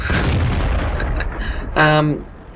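Tank cannon fire in World of Tanks, shooting from an SU-85I: a loud booming shot with a long rumbling tail, then a tonal mechanical reload or hit sound, with some game noise underneath.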